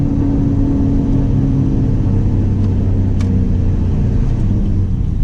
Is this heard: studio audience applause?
no